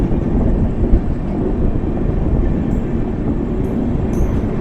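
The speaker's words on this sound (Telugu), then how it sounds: "రాజ్గర్ లోకమాన్య తిలక్ ఎక్స్ప్రెస్ ఇది." The Rajgarh Lokmanya Tilak Express, a Mumbai-bound train, rumbles past in a loud, steady roar with heavy low-end wind and rail noise throughout, no voices.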